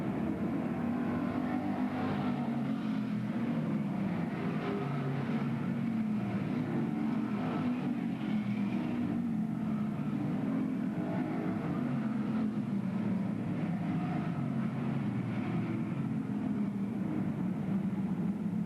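Race cars circling under green flag at Bedford Speedway in 1994, a dense continuous engine roar heard from trackside, rising and falling as the field passes through the turns, loud and unbroken throughout.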